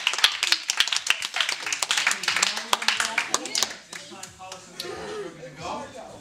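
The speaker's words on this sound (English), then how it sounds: "Give them a round of applause." A group at a kids' Kali martial arts class claps for the fastest boys, sharp close hand claps for about four seconds that thin out into scattered claps and voices.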